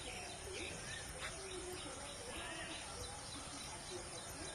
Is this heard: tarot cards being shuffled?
no